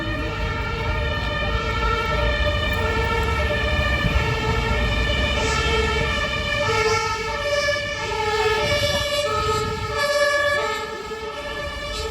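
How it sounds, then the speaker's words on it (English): A loud fire truck siren wails with rising and falling tones over rumbling engine noise, passing close by on a street in Neukölln, Berlin, and fading slightly at the end. "Fire truck going by."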